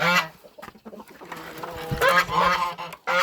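Geese and other poultry honk and cluck in a farmyard as the birds are let out of their shed, with several close, overlapping calls in loud irregular bursts.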